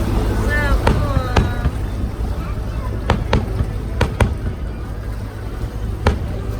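Fireworks over the water, heard from a boat, pop and crack in sharp scattered bursts near and far, with a few whistling rises, over a steady hum of engine and water noise.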